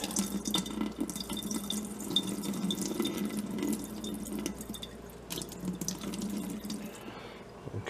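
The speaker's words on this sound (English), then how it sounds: "I'm going to add some water to it and shake it up" Water runs from a tap into a container of cucumber seeds, a steady close splashing and trickling stream that continues throughout without a break.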